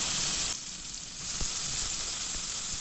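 Nigella seeds and two chillies hiss and crackle in hot mustard oil in a wok, a steady close sizzle with a few faint pops and no speech.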